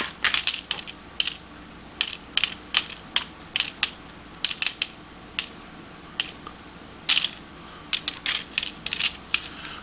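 Dry poblano pepper seeds being crunched and crumbled by hand onto a paper plate, a quick run of sharp, close crackling bursts in irregular clusters with no talking.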